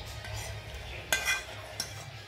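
Oil being poured and stirred into a traditional spicy mango pickle, a soft wet scraping and swishing with a couple of sharp utensil clinks against the container, close and fairly quiet.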